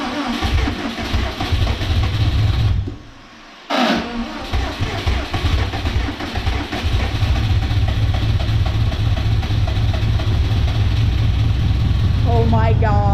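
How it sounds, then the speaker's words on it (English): A Subaru WRX engine cranks after a short pause, then catches and settles into a loud, steady running rumble close by, with a rapid rhythmic clatter near the end. "let's go ahead and try and crank her one more time"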